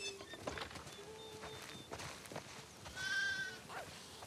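Sheep bleating on a farm in the video game The Last of Us Part II, several soft bleats scattered across the moment with one longer, clearer call near the end, fairly quiet against faint ambient background.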